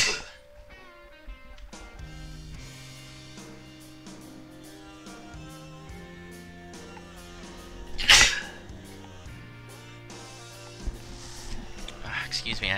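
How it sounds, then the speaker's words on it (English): A person sneezes once loudly and then more softly over steady background music during a Boeing 737-700 flight simulator session. "I had to sneeze twice."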